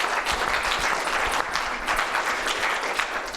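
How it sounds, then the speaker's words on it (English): Audience applause at a conference, a dense, steady round of clapping that continues throughout at moderate loudness. "I think she deserves a round of applause."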